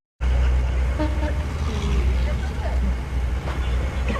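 A bus journey in the film Nanpakal Nerathu Mayakkam, with a constant road and engine roar and short horn toots cutting through. Voices are heard over the traffic noise.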